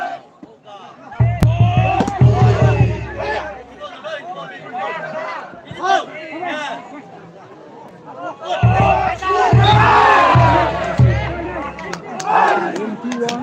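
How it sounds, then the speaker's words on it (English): Spectators cheer and shout loudly at a Zeme Olympic volleyball final, with two strong bursts of crowd roar separated by a quieter stretch of chatter and voices. "Those who are sitting here on the steps, make some noise, cheer them up."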